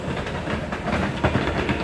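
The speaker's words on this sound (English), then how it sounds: "Another Subway here." Subway train running on rails on a Seoul transit transfer, a steady close rumble with rattling clatter and a hiss, continuous and fairly loud with no talk.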